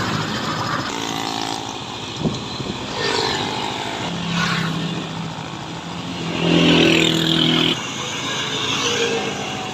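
A Kawasaki Barako II motorcycle riding off, its engine revving and pulling away through a couple of gear changes, moderately loud with wind and road noise.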